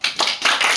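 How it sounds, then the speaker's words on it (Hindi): Students clap in a classroom, a quick burst of a few sharp claps lasting under a second, close and fairly loud. "ताली मारो"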